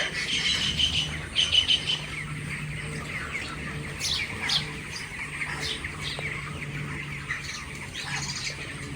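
Sparrows and other small birds chirp and tweet steadily on a village farm, with scattered bright calls over a low outdoor hum, moderately distant.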